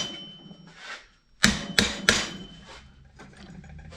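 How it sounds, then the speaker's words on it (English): A hammer beats a large-radius exhaust pipe into a corner for a twin-turbo Ford F100, three sharp metallic blows in quick succession, loud and close, between quieter workshop handling noise. "we're going to beat that into the corner"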